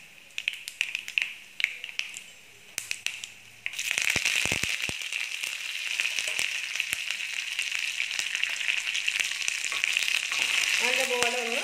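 Green chilies and curry leaves dropped into hot oil: scattered crackles first, then an abrupt loud burst of dense, steady sizzling that continues strongly to the end, with a brief voice-like tone at the close.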